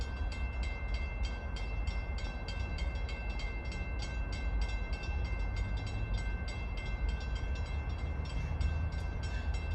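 A long CSX freight train with distributed power units rolls steadily across a trestle in Kenova, West Virginia, giving a continuous loud rumble with regular rhythmic clicking of wheels over rail joints and no talking.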